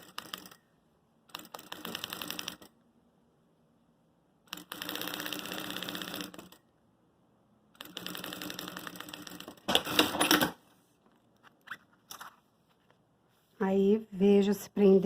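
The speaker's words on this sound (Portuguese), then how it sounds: "E eu vou costurar de novo. Pé de máquina encostando no zíper." A sewing machine stitches along a zipper on a makeup case, running in several separate bursts of rapid mechanical chatter with pauses between them and faint handling noises in the gaps.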